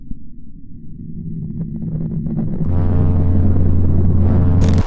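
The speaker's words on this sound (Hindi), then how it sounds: "और मरकरी से ये आवाजें आती हैं।" Sonified space recording presented by NASA as the sound of Mercury: a low rumbling drone that swells after a few seconds into a dense, sustained hum with a deep steady tone, ending in a sudden bright burst.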